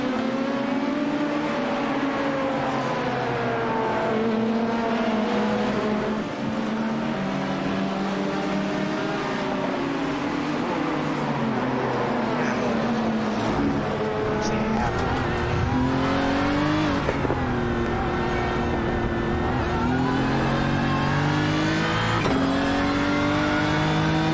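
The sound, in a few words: LMP prototype race cars passing in racing video game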